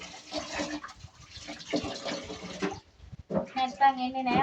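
Tap water running into a kitchen sink, a steady splashing stream that pauses briefly and then resumes with a fuller flow, close by, with a voice talking over it.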